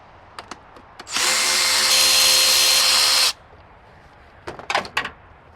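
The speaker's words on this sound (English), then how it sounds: "we're going to remove this cover right here so we can have some space and access this air intake" Power driver with a 7mm socket and extension spinning out cover bolts on a 2001-2011 Ford Ranger or Explorer 4.0 V6, one loud steady whir of about two seconds between light clicks and clatter.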